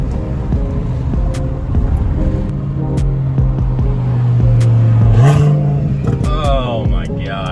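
A twin-turbo car with no rear bumper accelerates past, a loud, rising engine roar with a steady whining drone that swells, climbs in pitch, then fades into clatter and wind.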